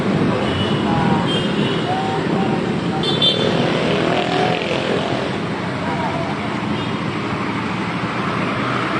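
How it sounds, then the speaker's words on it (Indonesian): Motorcycle and car engines hum steadily in roadside traffic during a police traffic compliance check in South Sulawesi, with a motorbike exhaust that is not especially loud and people talking nearby throughout. "suara knalpot motornya itu tidak besar"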